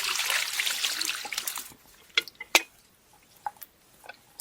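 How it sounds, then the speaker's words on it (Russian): Water spilling out of a fishing keepnet holding small crucian carp, a loud splashing rush at first that thins into scattered drips and trickles, close by, with no talking. "Сейчас садочек будем переливать."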